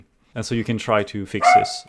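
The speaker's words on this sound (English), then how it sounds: "Sorry for the dog on the background." A dog barks in the background, a few sharp yaps rising through the middle of the clip while someone speaks clearly in the foreground.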